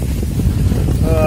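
Strong mountain wind during a snowstorm roars and buffets the microphone in a loud, constant low rumble, with no break across the moment.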